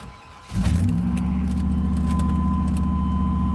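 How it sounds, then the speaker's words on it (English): A rebuilt car engine cranks and catches, then settles into a steady, close idle with a rough, knocking piston-slap rattle in its running. "Tiny bit of piston slap when you first start it, but goes away in like 2 seconds."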